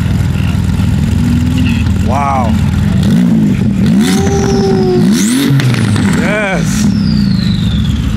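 A sports car exhaust at a Cars & Coffee meet revs in several sharp rising bursts, loud and close. People talk and exclaim around it against background crowd noise.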